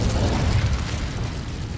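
The Incendio fire spell goes off in Hogwarts Legacy as a single close, muffled whooshing burst that quickly fades, with no talk.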